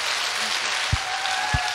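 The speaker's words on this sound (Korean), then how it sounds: "예수님께 큰 박수를 쳐드립시다." Church congregation at a charismatic renewal gathering claps steadily for Jesus, a dense, even wash of many hands with a couple of sharper thumps standing out.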